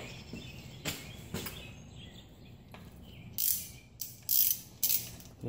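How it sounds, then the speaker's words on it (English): A socket ratchet with an extension tightens the rear wheel nut on a child's bike in several short bursts of rapid clicking, with quiet steady background noise and birds chirping faintly. "got a socket for the nut and extension"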